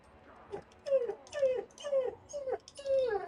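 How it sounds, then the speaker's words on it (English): A dog whimpers and yips in a rapid series of high, whiny cries, about six close, clear calls in a row with short breaths between, no people speaking. "Hi, dog. We have a dog invader."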